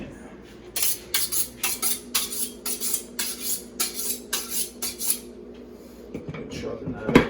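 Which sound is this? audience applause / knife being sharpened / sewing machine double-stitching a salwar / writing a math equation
knife being sharpened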